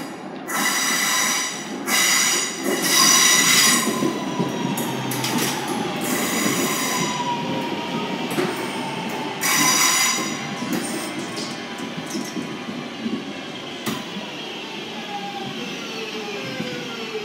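Northern class 323 electric train pulling into platform 1 at Stockport, with rising and falling motor whine, wheel squeal and clattering rail joints close by, slowing gradually to a halt.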